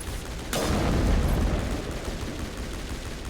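Rifle fire in a Mass Effect shooter game, a sharp burst kicking in loudly and settling into a continuous rumbling barrage of shots and booms.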